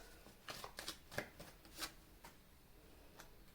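Tarot cards shuffled for a reading, with a short cluster of soft riffling flicks and slaps close by, then a quieter lone flick after a pause.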